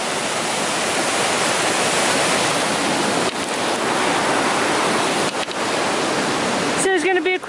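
Deep, powerful river water rushing at a wild swimming spot on Dartmoor, a loud steady roar close by, with a few brief knocks and a short voice near the end.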